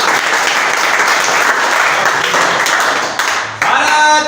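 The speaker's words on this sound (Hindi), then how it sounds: "ताली बजाओ रे बच्चे के नाम" Students clapping for a child in a classroom, a dense, loud round of applause that carries on steadily before thinning slightly near the end.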